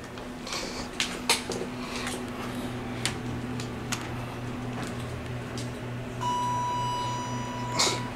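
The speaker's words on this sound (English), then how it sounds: "Let me ring the chime here" A chime rings inside a basic Dover hydraulic elevator at a Sleep Inn: a steady tone sounds at moderate loudness for about two seconds near the end, over a humming cab with scattered ticks and clicks.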